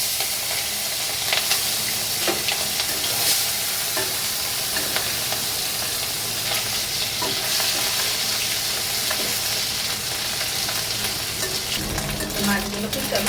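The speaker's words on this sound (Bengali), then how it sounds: "তেল গরম হয়ে গেছে, মাছগুলো ভেজে দিচ্ছি।" Small mourala fish fry in hot oil with a loud, continuous sizzle and crackle, and a few clinks from stirring.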